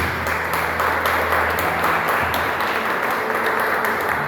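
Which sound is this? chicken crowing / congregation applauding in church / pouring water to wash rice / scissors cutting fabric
congregation applauding in church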